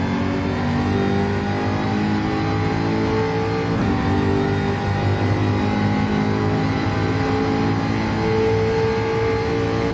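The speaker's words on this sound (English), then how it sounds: "The Jaguar sounds incredible." A Jaguar race car in Gran Turismo 7 on the Dragon Trail track, its engine roaring loudly and continuously at high revs under full throttle, with rising and falling pitch as it accelerates.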